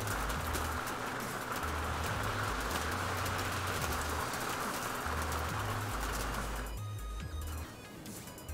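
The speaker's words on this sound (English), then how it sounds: "It's raining so hard." Heavy rain pours down in a video game during a boss ogre fight, a steady roaring hiss that fills the scene, with low tones beneath that ease off near the end.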